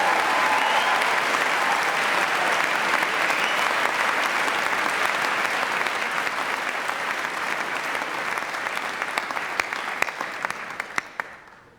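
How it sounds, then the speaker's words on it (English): An audience at a Royal Northern College of Music awards congregation in 2019 applauds a brass band, a dense, sustained round of clapping that thins into scattered claps and fades out at the end. "And I think I ought to begin with a round of applause for our fantastic brass band."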